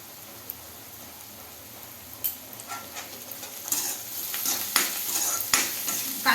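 Onions with a pinch of salt sautéing in a pan for kanda poha, a low background sizzle broken by spoon scrapes and stirring clatters that grow louder and busier toward the end, no voices.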